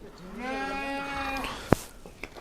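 A young female lamb of the Arashan breed on a sheep farm gives one long, wavering bleat close by, followed by a sharp knock and faint farmyard noise.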